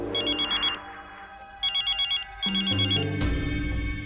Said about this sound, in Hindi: क्यों फोन कर रही है?